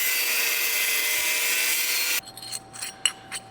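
A metal piece for a removable fender on a custom COE truck being cut: a loud, steady, harsh grinding rush that stops abruptly, followed by faint scattered knocks and a low hum.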